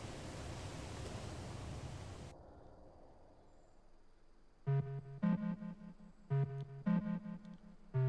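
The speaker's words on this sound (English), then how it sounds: "It sounds kind of windy" Wind blows in the video game Omori as a steady, broad whooshing rush for about two seconds. It cuts off to a quiet hum, and then soft, tonal chime-like game sounds pulse in a repeating rhythm.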